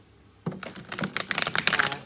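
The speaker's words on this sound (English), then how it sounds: "One more shuffle" Tarot cards being riffled and shuffled during a monthly reading, a dense run of crisp, close papery flutters and ticks starting abruptly and continuing in quick bursts.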